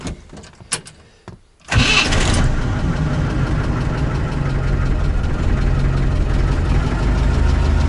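A UAZ 469 engine, freshly rebuilt, cranks briefly after a few clicks, catches, and settles into a steady, loud idle that continues to the end.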